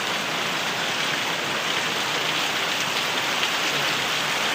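Heavy rain pours down at night in a dense, unbroken hiss that stays loud and steady throughout, with no voices over it.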